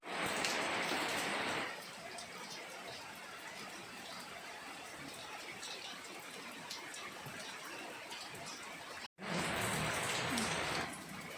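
Heavy rain falls steadily and loudly as a dense, continuous hiss with loud bursts at the start and end and a brief cutout near the end.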